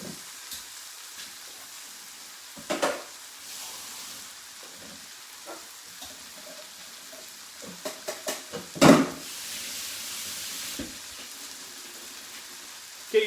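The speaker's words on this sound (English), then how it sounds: "Okay, so just dry fry that for a minute." Ingredients dry frying in a pan for Cuban chicken and rice, giving a soft steady sizzle with scattered louder clatters and stirring bumps, no talking.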